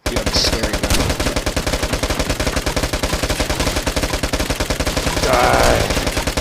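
Rapid automatic gunfire in the video game Vigor, a loud, dense, evenly spaced burst of shots running continuously through the whole stretch with no pauses.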